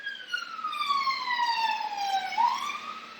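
An emergency vehicle siren passing on a busy London road, a loud wailing tone that sweeps slowly downward, then rises again as it goes by, with traffic noise underneath.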